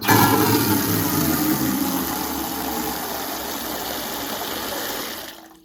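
A toilet flushes in an apartment under renovation after the cold water supply is turned on, a loud rushing gush that slowly eases over several seconds and cuts off at the end, with no talk.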